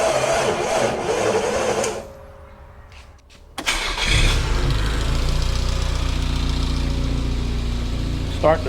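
A 1971 Datsun 240Z being cranked on a weak, lawnmower-size battery, whirring unevenly before a pause, then firing up and settling into a loud, steady idle close by.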